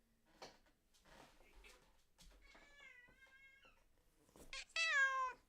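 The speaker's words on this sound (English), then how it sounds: "Oh, my cat's crying. One of my 3 cats is crying." Snow, a black cat, meows in a long, wavering, plaintive cry that rises to a louder, sharper yowl at the end, close by in an indoor room with a few soft bumps and movement sounds before it.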